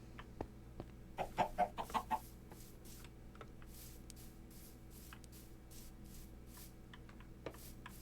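A chicken in the video game Minecraft clucks in a quick burst of several short notes, fairly faint, with scattered clicking sounds around it and no talk.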